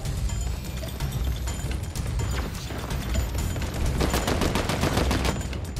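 Pump shotgun gunfire in the Fortnite video game, rapid dense bursts of shots and crashes that continue steadily throughout, with no talking.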